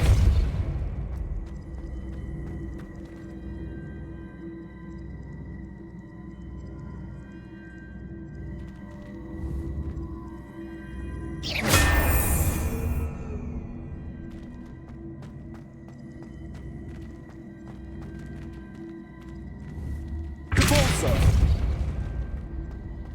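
In the video game Hogwarts Legacy, a Depulso spell blast lands twice as loud, booming bursts about nine seconds apart, rising over a continuous low game-ambience rumble.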